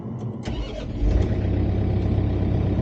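A John Deere 4066R tractor's diesel engine cranks briefly and catches, then settles into a steady, fairly loud idle running alone nearby.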